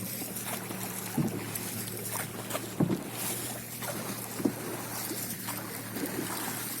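Rowboat gliding across Lake Saif ul Malook in Naran, with steady wind and water noise throughout and a few soft knocks, likely oar strokes, spaced a second or two apart.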